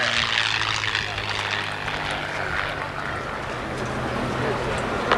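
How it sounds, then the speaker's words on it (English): A North American P-51 Mustang propeller fighter at a 1988 Confederate Air Force airshow in Harlingen, its engine droning steadily at a distance beneath a public-address announcer's voice. "the North American P-51 Mustang"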